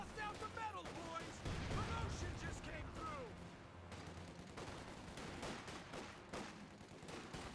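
.50 cal machine gun fire in a Company of Heroes 2 battle, with rapid bursts crackling amid other gunfire and explosions, loud and continuous under the game's battle noise.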